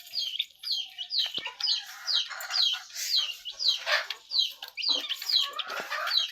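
Hens and young chicks cluck and cheep close by in a busy, continuous flock chorus of overlapping calls.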